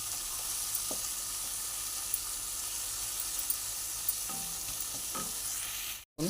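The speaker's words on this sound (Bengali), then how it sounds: "মশলাটা ভালো করে কষিয়ে নিয়ে তারপরে কাজু পোস্তটা বাটাটা আমি দেব যতক্ষণ না মশলা দিয়ে তেল ছাড়ছে ততক্ষণ আমি কষাতেই থাকবো" Spice paste is stir-fried in oil for stuffed pointed gourd (potoler dolma). It gives a soft, continuous sizzle and hiss, broken by a few faint scrapes of a spatula, before a brief dropout.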